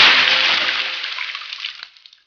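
Water gushes out of a bottle, emptied over a person in a loud, close splash that thins and trickles away over about two seconds, with no voices.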